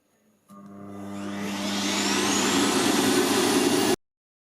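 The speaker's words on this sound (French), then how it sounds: "Si vous appuyez longtemps, ça va enclencher la poubelle." A ROIDMI EVE PLUS robot vacuum's docking station empties the dustbin with a loud suction roar that starts abruptly, builds steadily for about three seconds, then cuts off sharply.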